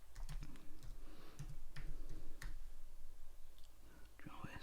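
Close, quiet keystrokes on a computer keyboard come in short irregular bursts of clicks, with soft background noise and a faint voice near the end.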